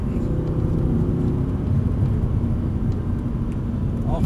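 An Audi R8 racing car engine accelerates around the Dunsfold track, a steady loud rumbling roar heard from inside the cabin with a constant whirring drone and no break in power.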